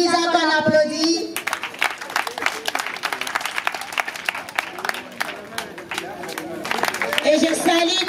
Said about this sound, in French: Il y a maman Giza qu'on applaudit.